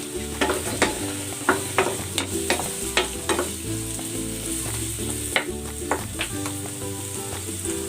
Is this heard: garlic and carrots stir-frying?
yes